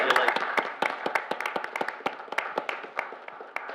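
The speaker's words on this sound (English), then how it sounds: "give her you. a round of applause for that." An audience at a regular board meeting claps for a few seconds, scattered individual claps in a brisk, uneven patter that gradually thins out.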